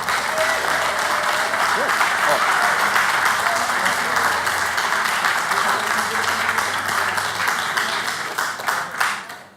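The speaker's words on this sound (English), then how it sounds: "let's give another round of applause to the Land Trust" An audience applauds steadily for the Land Trust at a Salty Sessions 2018 community event, dense clapping filling the room for nearly ten seconds before tapering off at the end.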